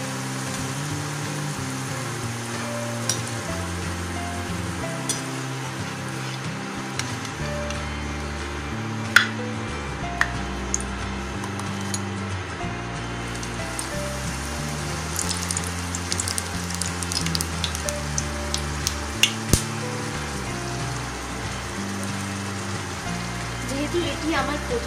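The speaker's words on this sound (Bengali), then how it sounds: "দেখুন আরেকটি যেটা ছিল সেটা আমরা দিয়ে দিচ্ছি তেলের মধ্যে" Aloo paratha fries in oil in a pan, a steady soft sizzle running underneath throughout with scattered crackles and pops, while a voice speaks over it and a gentle music bed plays.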